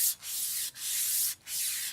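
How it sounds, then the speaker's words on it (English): Scooter handlebars being sanded down by hand, three steady abrasive rubbing strokes with brief pauses between them, close and fairly loud, no talking. "No, sanding it down."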